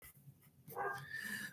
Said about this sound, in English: If you hear my dog barking, my family's playing with her upstairs